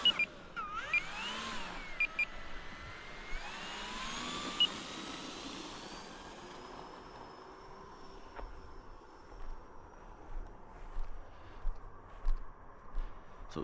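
An electric motor spins a propeller during a thrust test with added weight, whining with rising and falling tones and wavering pitch sweeps, fairly close and steady, with a few thumps and no talking.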